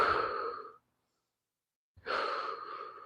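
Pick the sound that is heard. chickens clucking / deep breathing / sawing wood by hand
deep breathing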